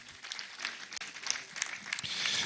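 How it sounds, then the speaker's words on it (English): Audience applause at a live event unveiling a Nigerian reputation management group, a faint, distant, continuous patter of clapping lasting the whole moment with no talk over it. "Please do give him another round of applause."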